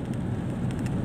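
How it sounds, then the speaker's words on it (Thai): Steady rain falls during a tropical storm in a rural village, a continuous dense hiss with no voices. "สภาพอากาศเช้าวันนี้ฝนก็ยังตกลินนะครับตกปล่อยๆอยู ่ยังไม่ถือว่าหนักมาก"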